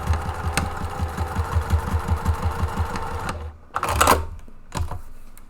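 Sewing machine running a quarter-inch seam across the base of a fabric tote bag with foam inside, a fast steady rhythmic stitching pulse for about three seconds, then stopping amid brief handling clatter.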